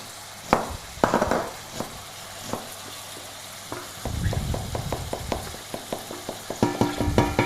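Chopped meat for lasagne browns in a frying pan, sizzling steadily as a utensil stirs and scrapes it across the surface in quick, repeated strokes, close and clear with no talking.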